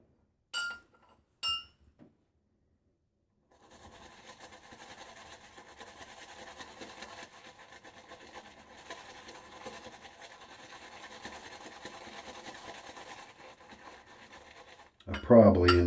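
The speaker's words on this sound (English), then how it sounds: "I probably ended up loading for about a minute there." A shaving brush loads and whips T&H Luxury shaving soap, giving a steady, soft wet swishing and lathering that runs for about ten seconds after a few clinks. The sound stays close and fairly quiet, and a louder knock follows at the end.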